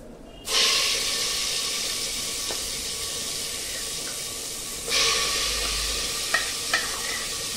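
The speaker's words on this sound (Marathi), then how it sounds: "आता हा जे वाटण आहे हे वाटण आपण परतून घेणार आहोत याच्यामध्ये।" Ground spice paste hits hot oil with mustard seeds and turmeric for an achari-style potato and aubergine curry. It bursts into a loud, steady sizzle. A second surge comes a few seconds later, and faint stirring clinks sound near the end.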